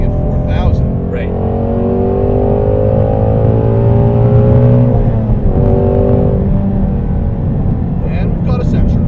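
A Ford Shelby GT350 engine revs up to high rpm while driving, a loud, close, sustained harmonic roar that rises in pitch, with people talking over it inside the cabin.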